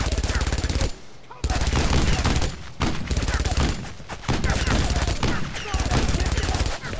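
Sustained MG42 machine gun fire in the World War II shooter Brothers in Arms: Road to Hill 30, loud, dense bursts of rapid shots broken by short pauses, running almost continuously with distant gunfire layered underneath.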